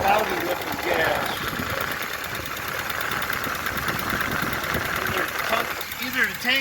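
A car's engine running after sitting for 28 years on cloudy old gas, a steady mid-pitched idle with a rattly, ticking texture, heard close with some background noise throughout.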